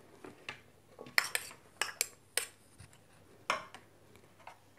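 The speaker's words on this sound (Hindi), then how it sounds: "इसी के साथ गाजर डाल देती हूँ।" Carrot pieces dropped into a metal cooking pot while making tomato soup give a series of sharp, irregular clinks and taps, about eight distinct hits close up against a quiet kitchen background.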